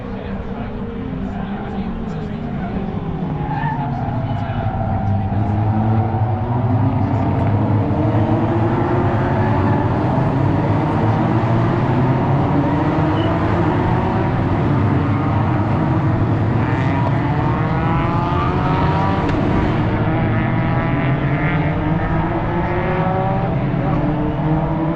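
Race cars starting a Grand Prix at Magny-Cours, a loud, continuous roar of many engines climbing through the gears as the pack surges past, swelling within the first few seconds and staying heavy throughout.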